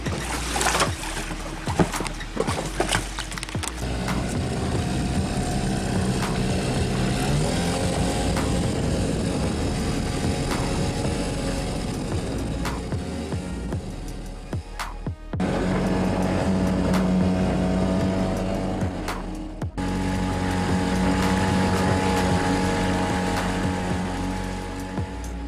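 A small dinghy outboard motor drones steadily, its pitch shifting as it runs, with water splashing and wind buffeting throughout, close and fairly loud.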